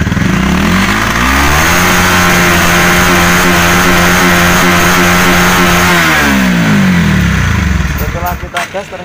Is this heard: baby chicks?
no